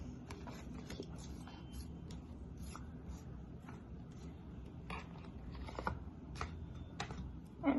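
Tarot cards being shuffled and handled in a quiet room, soft close papery rubbing and light flicking taps repeating irregularly at low volume.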